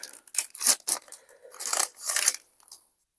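Foil wrapper of a Palworld TCG booster pack being torn open by hand, a few crisp ripping and crinkling bursts close by, with a short pause between them and a fading rustle at the end.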